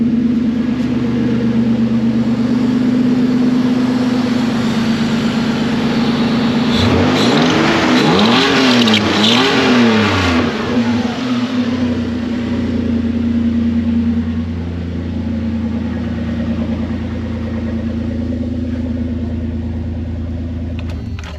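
A swapped 3.4-litre Toyota V6 idles steadily and loudly close by, with a burst of revving in the middle that rises and falls several times before settling back to idle.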